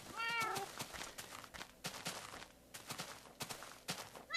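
Cats meowing in the Minecraft video game, a short high mew near the start, followed by soft, irregular clicks and taps, faint throughout.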